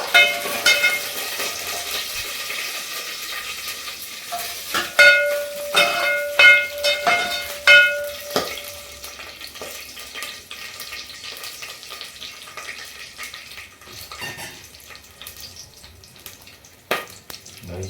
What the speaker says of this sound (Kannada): ಚಟಪಟ ಚಟಪಟ ಅಂತ ಸೌಂಡ್.